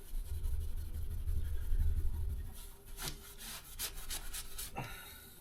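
Brush scrubbing a dirty surface during a bus home build, meant to lift off white residue: steady rough rubbing strokes, close and moderately loud, ending in a few sharper scraping bursts.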